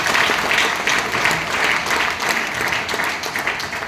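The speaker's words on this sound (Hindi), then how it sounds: "एक बार जोरदार ताली होना चाहिए" Loud, sustained applause from a large seminar audience, a dense steady wash of clapping that holds evenly for about four seconds with no voices above it.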